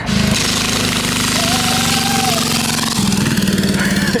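A go kart powered by a cheap 10HP Temu diesel engine runs steadily with a loud, chugging mechanical rumble, and voices shout over it.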